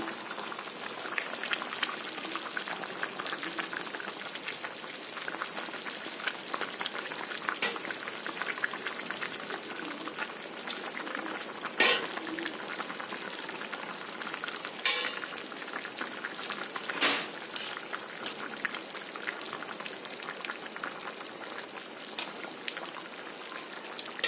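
Fried mrigel fish simmers in a zucchini and drumstick vegetable curry, making a soft continuous bubbling and crackle with occasional louder pops and a light stir, fairly quiet and close.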